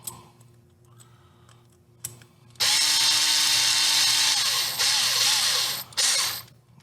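A power drill spins up on a 1.9 beadlock wheel rim, a loud whirring burst that runs for a few seconds with pitch dips as it loads, after quieter clicks and handling of the ring and screws beforehand.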